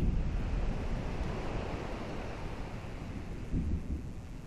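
Stormy weather in the Kingdom Hearts video game, with a steady wash of wind, surf and rumbling thunder rolling continuously at fairly loud level with no voices.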